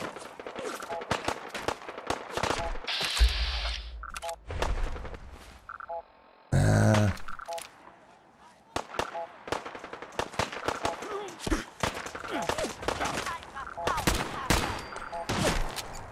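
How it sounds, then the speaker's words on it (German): Enemies firing at the player in Fallout 4, loud bursts of automatic gunfire and rapid single shots in clustered volleys, close and sharp, with a brief pause midway. "Ja, ich weiß, dass ich beschossen werde."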